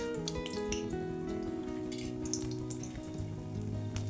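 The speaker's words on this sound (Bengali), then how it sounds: "প্রথম থেকে যে কটা পকোড়া ভেজেছিলাম 10 মিনিট পর আবার সব কটা ডবল করে ভেজে নিচ্ছি" Pumpkin flower pakoras frying in oil, with soft, continuous bubbling and crackling, fairly quiet, while background music plays and no one talks.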